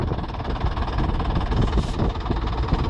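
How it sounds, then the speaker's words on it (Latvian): A tractor stuck in the ground keeps its engine running, a steady rumbling idle with low knocking pulses that stays close and fairly loud throughout, with no talk over it. "Nogrimis traķis un Roberts pie stūra."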